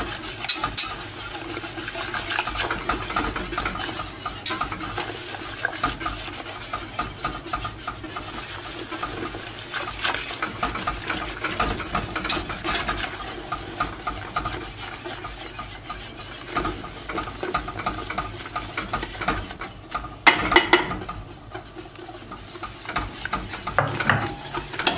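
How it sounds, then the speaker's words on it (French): Batter for maroilles waffles being stirred in a bowl, a long steady run of rasping, rubbing strokes close up, continuous and fairly even, with a short louder clatter near the end. "on mélange bien"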